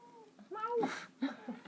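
Close, insistent cat meows overlapping with a person talking.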